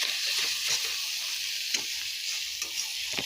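Curry frying in a pan after turmeric and chilli powder go in, a bright continuous sizzle with a few soft stirring knocks, close and fairly quiet.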